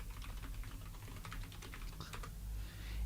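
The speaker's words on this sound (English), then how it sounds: "You simply type in your email address." Rapid computer keyboard typing of an email address, a steady run of light key clicks over a low room hum, close and continuous, with no talking.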